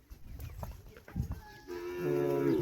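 A cow in a Maldhari herd lets out a long, drawn-out moo that starts about two-thirds of the way in and carries to the end. It follows scattered shuffling and thumping noises, and the call is fairly close.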